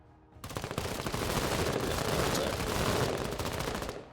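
Sustained heavy video game gunfire from enemy squads, a dense rattle of machine-gun bursts and rifle shots that swells loud after a brief quiet start and keeps going to the end, no voices over it.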